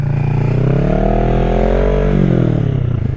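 A motorcycle in emergency maneuver practice slows with the clutch pulled in, its engine dropping to a steady low rumble with a slight rise and fall in pitch, loud and close throughout.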